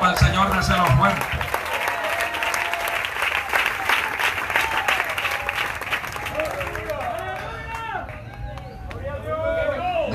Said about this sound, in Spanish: Ese aplauso es para el Señor, déselo fuerte.